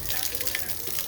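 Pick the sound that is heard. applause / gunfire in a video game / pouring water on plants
pouring water on plants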